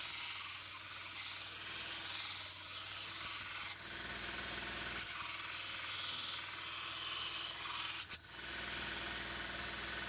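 A belt grinder runs continuously, its harsh abrasive hiss rough-grinding a hook tip machete blade. The rasping briefly dips and resumes a few times as the steel is pressed against the belt.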